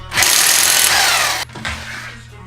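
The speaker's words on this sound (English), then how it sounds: "you want to take off all 3 of these bolts so it allows the strut to come down" A power tool loosens strut tower bolts on an Infiniti G35 during a lowering-spring install, one loud close burst of about a second and a half, then a shorter second burst.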